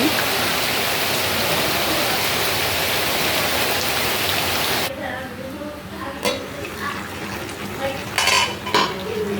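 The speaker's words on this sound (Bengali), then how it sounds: "বৃষ্টি হচ্ছে।" Rain falls in a dense, loud, even hiss for about five seconds, then cuts to a quieter background with light kitchen clinks and faint voices.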